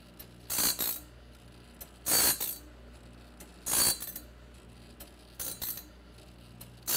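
TimberKing auto sharpener grinding a sawmill blade, giving short bright grinding passes about every one and a half seconds in a steady repeating rhythm over a low mechanical hum, close and moderately loud.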